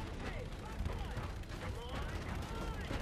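Sustained gunfire and explosions from the Call of Duty Infinite Warfare space-war campaign, a dense continuous barrage of shots and booms with a voice underneath.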